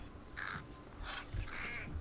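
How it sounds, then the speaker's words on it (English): Crows in the game Thief, startled into cawing: three harsh, hoarse caws in quick succession, fairly quiet, over a faint low background hum. "Sudden movements near birds will disturb them,"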